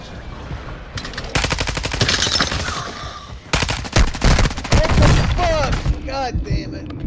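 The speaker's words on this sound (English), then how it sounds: "Mortar strike inbound." Mortar strike in Call of Duty: Modern Warfare II, heard as dense rapid bursts of loud gunfire-like explosions with a brief lull in the middle, then renewed booming blasts mixed with whizzing sounds near the end.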